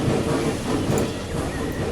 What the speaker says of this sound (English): So I'm going to jump on board this train